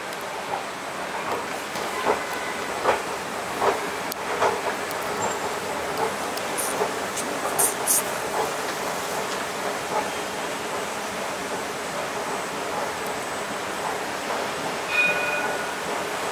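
A train rumbles and clatters nearby as it leaves a station in Jerusalem, with rhythmic clicks and metallic squeals over a steady low roar.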